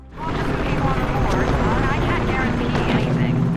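A helicopter flies by amid dense rooftop city ambience in the video game Mirror's Edge Catalyst, a steady, loud broadband rumble lasting the whole moment, with a voice talking over it.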